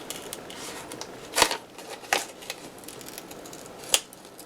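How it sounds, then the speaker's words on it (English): Scissors snip through planner paper with a few sharp, uneven cuts, each a brief crisp burst against a quiet background, sounding close and struggling on one side. "It's like it just doesn't want to cut this side for some reason."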